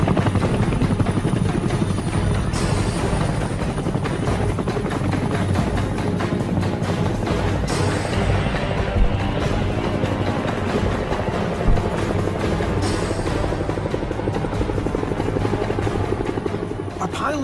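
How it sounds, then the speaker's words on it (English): U.S. military helicopters flying in for a rescue during the Vietnam War, loud continuous rotor thudding and engine whine filling the scene steadily, with wind noise and faint background activity. "forcing U.S. choppers to come to their rescue"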